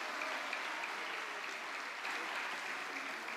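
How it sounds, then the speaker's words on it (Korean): Church congregation at an autumn dawn revival service applauding, steady full clapping from a large crowd throughout, fairly distant and even. "우리 다시 한번 뜨거운 박수로 함께 격려하도록 하겠습니다."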